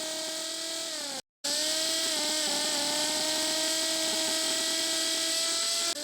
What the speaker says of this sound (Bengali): তার জন্য তৈরি করা হয়েছে এই কাস্টমাইজ সিঙ্গেল লক নাট, যেটি এই কাস্টমাইজ যন্ত্রটি দিয়ে দ্রুত গতির সাহায্যে খোলা হয়।